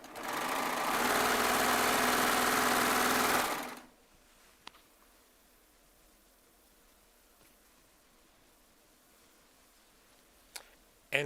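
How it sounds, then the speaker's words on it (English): A Baby Lock Triumph serger runs at full speed for a few seconds in a steady, loud, fast mechanical whir, then stops abruptly, leaving near silence with a couple of faint clicks. "I love piecing quilt tops on a serger"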